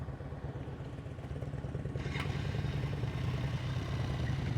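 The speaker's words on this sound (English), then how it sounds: "When you have a loud motorcycle" A loud motorcycle engine runs steadily during slow-speed riding practice, its low rumble holding close and constant and growing slightly louder partway through.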